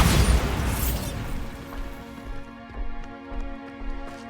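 A Bombarda spell blast in Hogwarts Legacy: a loud burst of explosive noise at the start that quickly decays, followed by a faint ringing tonal hum with a few soft thuds.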